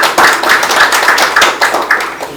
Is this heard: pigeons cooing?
no